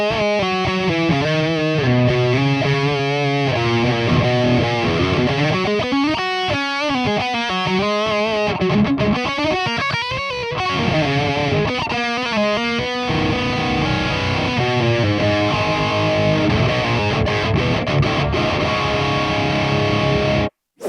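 A Donner Hush X Pro travel electric guitar plays a continuous distorted, effects-laden run of notes and chords, loud and up close with no talking, cutting off abruptly at the end.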